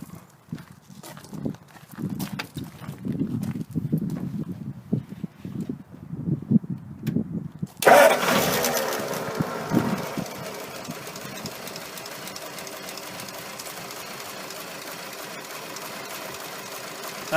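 A warm 1934 Ford flathead V8 idles with an uneven, rhythmic low chugging, then a loud steady rushing hiss rises and continues over the running engine.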